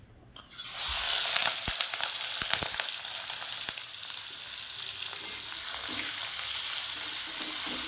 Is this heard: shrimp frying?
yes